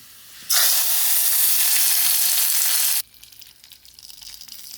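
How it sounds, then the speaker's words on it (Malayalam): Mustard seeds and dried red chillies hit hot coconut oil and burst into a loud, steady sizzle that lasts about two and a half seconds, then cuts off abruptly, leaving a faint crackle behind. "നമുക്ക് വെളിച്ചെണ്ണയിൽ പിന്നെ കടുക് അതാ എടുക്കുന്നുണ്ട് പിന്നെ വറ്റൽമുളക് ഇത് താളിച്ച് ചേർക്കാം"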